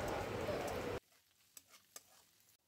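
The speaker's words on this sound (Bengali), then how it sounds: "এবার এই ডিমটাকে আমি গাজর আর ক্যাপসিকামের সঙ্গে আবার খুব সুন্দর করে একটু হালকা করে নেড়েচেড়ে ভেজে নেব।" Egg with carrot and capsicum being stirred in a hot pan gives a loud sizzle for about a second, then cuts to near silence broken by a few faint ticks.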